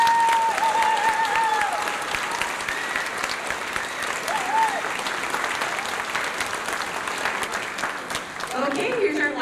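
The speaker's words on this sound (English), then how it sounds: "Let's give Schmidt a huge round of applause." A large audience at a youth band concert claps continuously and loudly, a steady wash of applause lasting throughout, with a few faint voices underneath.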